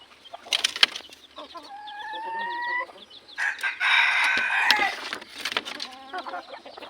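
Several junglefowl call nearby: a drawn-out crow stands out among clucks and sharp calls, with brief wing flaps and rustling.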